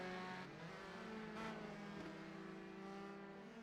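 Race car engine droning steadily through a qualifying lap on a fast, flowing circuit in a racing video game, with a sustained harmonic whine that shifts pitch with gear changes, loud and continuous with no talk.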